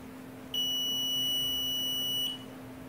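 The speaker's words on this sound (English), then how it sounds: "I test for continuity." Multimeter continuity tester gives a single steady high-pitched beep lasting nearly two seconds, clear and alone over a faint background hum.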